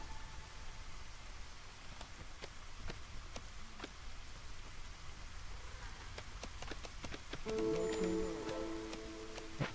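Rain falls steadily during the rainy season in a video game, a soft continuous patter dotted with sharper drops, alongside a brief tonal game sound near the end.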